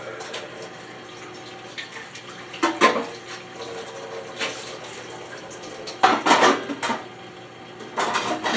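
Baking pans rinsed under a kitchen tap: a soft steady run of water with a few louder splashing bursts as the pans are moved under the stream, close by and with no talking.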